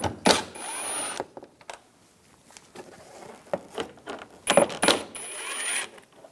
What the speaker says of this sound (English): Take these screws out. Use a T25 socket.